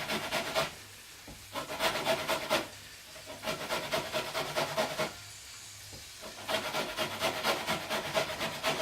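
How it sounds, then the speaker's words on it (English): Lemon zest being grated on a very fine grating edge, repeated bursts of short scratchy rasping strokes separated by brief pauses, close and moderately quiet. "you want the zest, first of all, of at least one, this size lemon"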